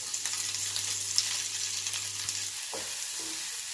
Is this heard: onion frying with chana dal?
yes